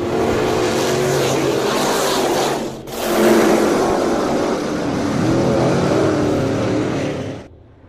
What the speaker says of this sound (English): Kirkus with a commanding lead on this first of two heat races here tonight